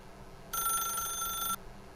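A telephone rings in The Stanley Parable video game: one continuous electronic bell burst lasting about a second, clear and close against a quiet background.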